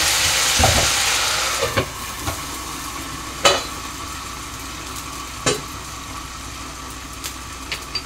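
Mutton frying in a pot gives a steady soft sizzle, broken by a few sharp clinks and scrapes of a ladle stirring at irregular intervals; no voices.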